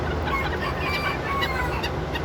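Several bantam chickens cluck softly and continuously nearby, small overlapping calls over a low outdoor background hum.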